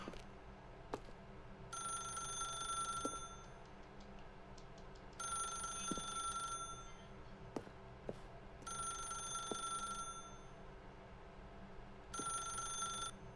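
A telephone ringing in the video game The Stanley Parable, four evenly spaced bursts of ringing with quiet gaps between, alone over a faint room background.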